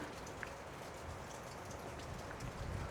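Steady rain pattering on a surface, a continuous dense hiss with scattered drops, no voices.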